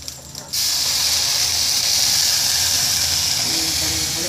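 Appam batter hits a hot pan with a sudden, loud sizzle that starts after a quiet moment and holds as a steady, bright hiss, with no voices.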